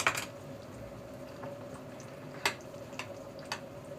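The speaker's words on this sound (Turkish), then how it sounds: "Evet böyle karıştırıyoruz." A spoon stirring a yogurt meze mixture in a bowl, faint wet clicks and soft squelches at irregular intervals over a low steady background hum.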